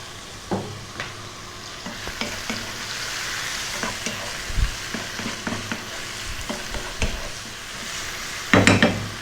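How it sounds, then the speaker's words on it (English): Food seasoned with salt and black pepper fries in a pan over medium heat for an Italian pasta dish, a steady close sizzle broken by scraping stirs and scattered clinks of utensil against pan, with a louder clatter near the end. "And then we're going to just fry this around for about 4 minutes on and above medium heat."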